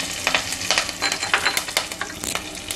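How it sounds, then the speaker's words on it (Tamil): Mustard seeds, urad dal and curry leaves crackle and sizzle in hot oil in a kadai, with steady frying hiss and repeated sharp pops, close and alone. "கடுகு பொரிஞ்சிருச்சு, கொஞ்சம் கருவேப்பிலை போட்டுக்கலாம்."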